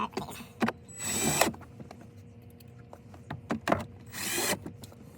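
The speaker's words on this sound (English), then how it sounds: "And then just reattach your screws." Screws being refitted on the glove box of a 2020 Nissan Altima: scattered light clicks, taps and brief rubbing, scraping bursts of handling plastic and fasteners, fairly quiet and close.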